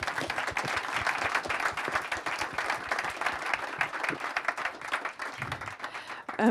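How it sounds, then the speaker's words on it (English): Audience applause for a panel at a gender equality and science event, dense, sustained clapping from a large room that fades toward the end as a voice begins. "can we please give a huge round of applause for our panel?"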